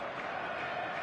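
A stadium crowd cheers in the video game Dragon Ball Z Kakarot as a dense, steady roar of many voices. It stays loud and even for the whole second, with no single voice standing out.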